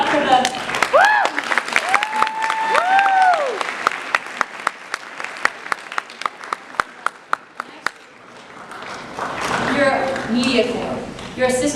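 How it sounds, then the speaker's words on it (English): Audience applause at a high school model United Nations conference, opening as a crowd-wide clatter of claps with voices mixed in, thinning into a few sharp separate claps, then swelling again with cheering and chatter. "Let's do 1 big clap for the."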